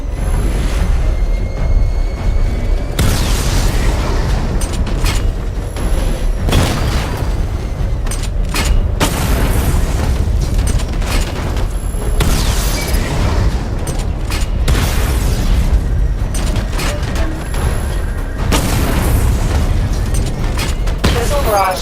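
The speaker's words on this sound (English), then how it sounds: "Charge the missile barrage to level 2 to destroy up to 4 targets at once." Batmobile missile barrage explosions in the video game Batman: Arkham Knight, a steady, dense run of loud booms and bursts over rumbling mechanical noise, with a voice speaking at points.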